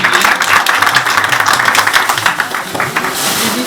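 An audience applauds the Maharaj at a Hinglaj Yatra gathering, with dense, continuous clapping filling the whole stretch at close, loud level.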